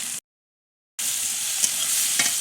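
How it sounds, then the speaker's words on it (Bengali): Onions frying in a pan, a close steady sizzle with stirring scrapes, cut by a brief stretch of total silence before the hiss resumes. "এবার পেঁয়াজগুলো ভাজা হয়ে গেছে"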